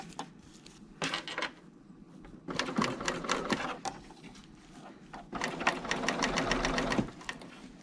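A sewing machine with a piping foot stitches a zipper seam in close, rapid runs of needle clatter, with short pauses between bursts and a longer steady run near the end.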